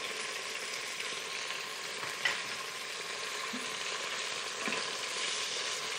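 Chunks of cheap-cut beef browning in a hot pan give a steady, close frying sizzle, with brief clinks and stirring sounds as pieces are turned, and no one speaking.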